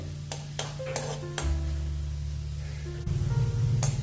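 Cumin seeds frying in hot oil in a pan, a steady low sizzle running throughout, with a few brief clinks and scrapes of stirring on top.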